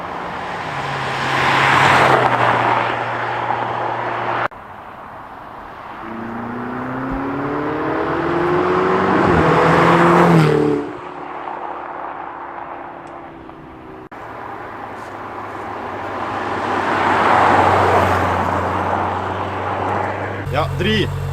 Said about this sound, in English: You just gotta hear those V8 twin turbos